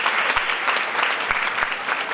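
A crowd at a Swaminarayan Gurukul assembly in Deesa claps steadily in welcome of visiting saints, a dense, continuous wash of applause with a few sharper claps standing out.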